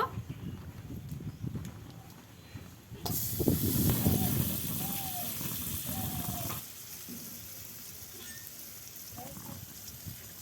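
Butter bursts into a loud, broadband sizzle as it hits a hot kadai over a gas flame while cooking Bengali lemon pepper chicken. The sizzle starts suddenly after a quieter stretch, holds steady, then eases slightly toward the end.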